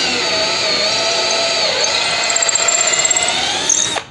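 A Bosch GSR 1080 Li cordless drill boring a 6 mm bit into hard wood, motor whining steadily and close, with rapid stuttering bursts as it bites in, then stopping abruptly.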